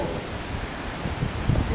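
Strong wind blowing outdoors in Philadelphia near the Liberty Bell Trolley Tunnel: a close, blustery rumble and buffeting hiss, steady with gusty bumps toward the end, no talk over it.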